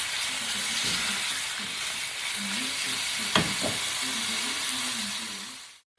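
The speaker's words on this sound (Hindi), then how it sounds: "चिकन हमारा फ्राई हो रहा है बहुत अच्छे से" Chicken pieces fry steadily in a pan for an Alfredo pasta dish, a soft continuous sizzle and hiss with a couple of sharp clinks partway through before the sound cuts off.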